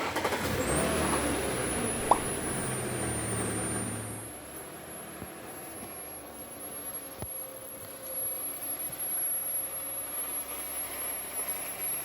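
A 2016 car engine idling with a blown PCV oil separator, giving off a steady high-pitched whistle that drops away partway through, leaving a quieter running hum.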